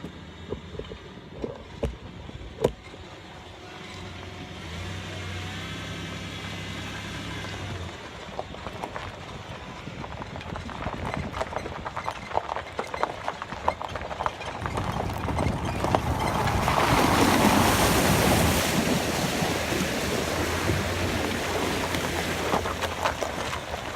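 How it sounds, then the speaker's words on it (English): A vehicle splashes and rumbles across a shallow creek, water sloshing and churning louder toward the end over steady wind noise on the microphone. "we gotta drive across the creek to get there"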